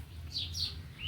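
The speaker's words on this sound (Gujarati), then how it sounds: "કોયલ સરસ બોલે છે" A koel calls a few times, with short rising high-pitched notes heard faintly over a low background hum.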